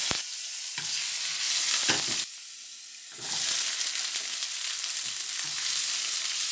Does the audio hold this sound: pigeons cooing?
no